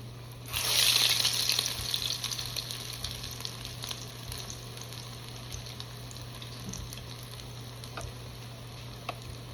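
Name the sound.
potato pancakes frying in hot oil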